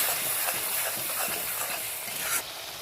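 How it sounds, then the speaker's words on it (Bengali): Spice paste of turmeric, chilli, coriander and cumin powders stirred and fried in a pan for Bengali mutton jhol: a steady close sizzle with repeated scraping strokes of the spoon, easing slightly near the end. "ভালো করে নেড়ে চেড়ে কষে নেব।"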